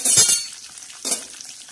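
Garlic and cumin hitting hot oil for a tempering poured over spinach and moong dal, with a sharp close burst of sizzle and metal clinks at the start, a second burst about a second later, then a fading hiss.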